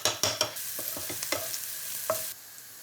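Turmeric, paprika and chili powder sizzle in a hot pan, a close, steady frying hiss broken by a few sharp stirring scrapes, then cutting off near the end.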